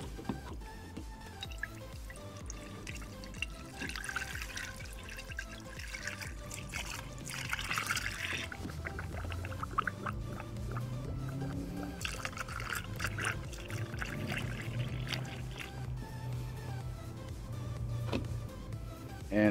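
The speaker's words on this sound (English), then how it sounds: "We're gonna go ahead and add the coolant. And this is a 50-50 mix" A 50-50 coolant mix being poured into a 2011 Porsche Panamera's cooling system, a steady liquid trickle and glugging stream that runs continuously at close range, fairly quiet, with no talking.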